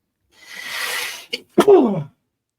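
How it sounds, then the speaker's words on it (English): A single loud sneeze: a breathy windup, a short catch, then a sharp explosive burst that trails off, heard up close with no talking. "I have to sneeze. I can feel it coming."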